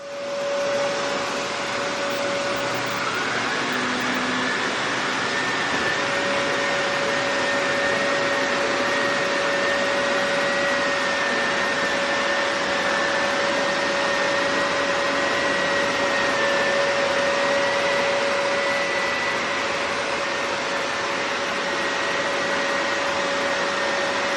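A Shark Carpet Xpert Stain Striker carpet cleaner runs nonstop, giving a loud, close, steady motor drone with a fixed whine and a faint wavering higher tone throughout, with no talking.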